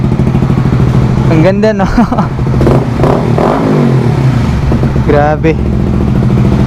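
A Honda CBR150R v3 fitted with an Akrapovic muffler idles with a rough rumble and revs sharply in two quick rising bursts, loud and close, while someone talks over it.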